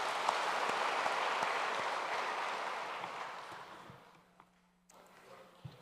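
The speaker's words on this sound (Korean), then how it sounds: "하나님 앞에 감사와 영광의 박수 드리겠습니다" A church congregation claps together in a sustained wash of applause that slowly fades out toward the end, leaving a quiet room with a faint low hum.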